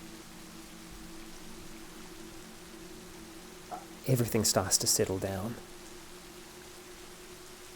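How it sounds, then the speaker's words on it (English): Steady rain falls as an ambient sound effect in an audio drama, a soft, continuous hiss at low level, briefly overlaid by a spoken voice midway before the rain carries on alone. "And then that rain comes back into your ears."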